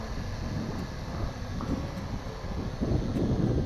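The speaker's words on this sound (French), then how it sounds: "il y a du vent, oh là là là" Outdoor wind gusts buffet the microphone during a WLtoys Q333A RC drone test flight, a steady low, rumbling roar with mild swells, louder toward the end, and no voices.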